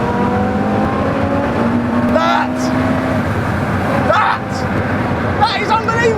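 A Porsche Carrera GT engine revving on a race track, loud rising and falling engine notes with sharp blips, heard under someone talking throughout.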